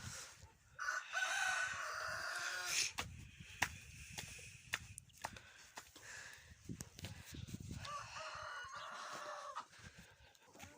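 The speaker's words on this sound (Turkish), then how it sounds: "tavuklarımızı göstereyim arkadaşlar." Chickens cluck and chatter at a distance, and a rooster crows once, all in a busy farmyard with soft background noise.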